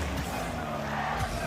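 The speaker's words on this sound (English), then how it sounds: "Crowd already getting behind the MENA representatives." A steady, dense roar from a large esports arena crowd fills the space at the RLCS 2024 Major 2 in London during a Rocket League quarterfinal between Falcons and GenG, heard as a short, unbroken wash of noise.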